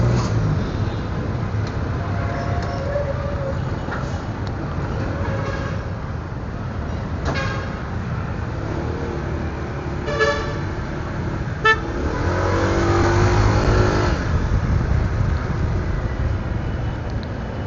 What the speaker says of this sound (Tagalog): Ayan, bumper to bumper na traffic dito.